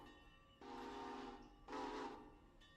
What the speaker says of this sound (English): I hear another train.